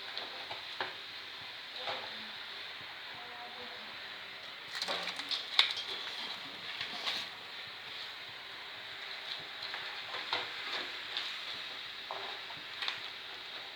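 Angel and snapper fish roasting in a pan on a stovetop, a steady soft sizzle with occasional scrapes and stirring clatter, fairly close and moderate in level.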